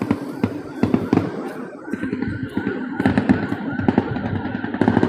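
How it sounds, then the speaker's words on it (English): Fireworks or flashbangs set off during a police parade, a rapid string of sharp bangs and crackles echoing nearby, with crowd noise and some talking in the background. "Fireworks or something."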